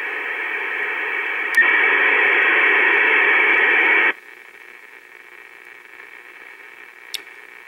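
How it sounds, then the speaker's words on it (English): An AM broadcast on 1640 kHz received on an Icom 7300 carries an odd, distorted modulation resembling a dial-up modem: a steady hiss-like warble that grows louder midway, then drops back to a fainter, thinner tone with a brief click near the end. "Sounded like a dial-up modem."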